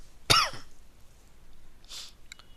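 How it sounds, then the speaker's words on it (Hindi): One sharp, close cough bursts out, followed moments later by a softer second cough or throat clearing, against an otherwise quiet room. "अच्छा खांसी हो गया।"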